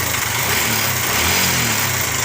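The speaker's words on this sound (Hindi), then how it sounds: "टाइमिंग आवाज़ कर रही है।" Bajaj Pulsar motorcycle with a noisy timing chain idles up close, a steady loud engine drone with a rattling, ticking mechanical chatter layered over the low throb.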